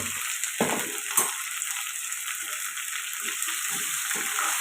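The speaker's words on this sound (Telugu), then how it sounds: "ఇప్పుడు బాగా కలుపుకొని ఫ్రై చేసుకున్నాం ఒక రెండు నిమిషాల పాటు" Okra for pulusu stirred and fried in a pan, a steady hiss of sizzling oil with a few soft spoon scrapes and knocks, close and moderately loud, no talking.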